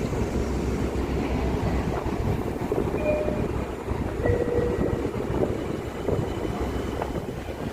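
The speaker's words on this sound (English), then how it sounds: "there goes the Huntington train" A commuter train rumbles steadily past at close range at Hicksville station, a continuous low roar with faint squeals from the wheels, and no voices.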